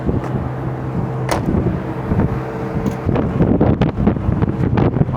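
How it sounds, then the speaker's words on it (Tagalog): Strong gusts batter the microphone in a loud, rough, continuous roar with thumping bursts that grow harsher toward the end. "Mahangin dito."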